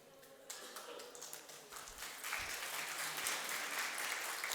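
Temple audience clapping together at a religious discourse, a broad steady patter that starts thin after a brief lead-in and grows fuller and louder toward the end.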